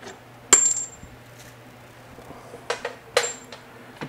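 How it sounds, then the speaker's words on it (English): Brake caliper bolts on a GM single-piston brake caliper being removed, giving two bright metallic clinks with a ringing tone and a few softer taps and rattles, close by against a faint low hum. "Get the caliper bolts out of the way."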